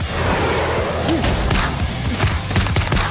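Gunfire in the mobile shooting game Free Fire MAX sounds as a dense run of sharp, loud shots, with rapid bursts clustering toward the end over a constant backdrop of game noise.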